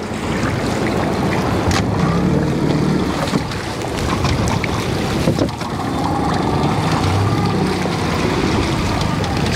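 A coble fishing boat's engine idles in gear at tick over while lobster potting in Cardigan Bay, Wales, a steady low rumble mixed with constant wind buffeting the microphone and splashing water.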